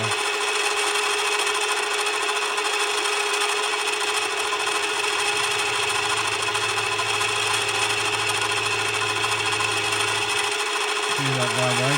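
A 5-cylinder rotary steam engine runs with a steady, constant mechanical drone, a faint rubbing or buzzing tone underneath, and a lower hum that comes in midway.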